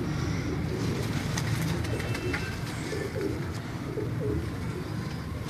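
Domestic pigeon at its nest, cooing steadily at close range against a dense, constant background of other pigeons and bird noise, with no talk.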